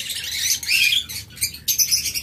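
A bonded breeding pair of double red factor pet birds chirps and tweets in close, bright bursts, with brief pauses between the calls and no voices.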